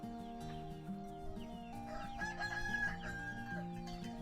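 Roosters crowing on a village farm, with several long, drawn-out calls overlapping at moderate distance, mixed with clucking from other fowl and faint outdoor background.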